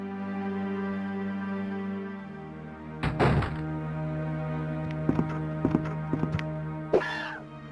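Hunter monsters in Resident Evil on Sega Saturn move around offscreen: a heavy thump, then scattered scraping thuds and clicks over a low droning game ambience, with no voices.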